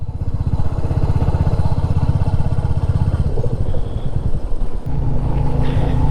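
A motorcycle engine drones steadily on the road trip from Kolkata to Haldia, a loud close rumbling putter with fluttering pulses and wind, briefly easing near the end before resuming.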